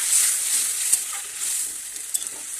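Fish head sautéing with spices in a pan, a steady close hiss of frying broken by a few soft stirring clicks and scrapes, with no voices.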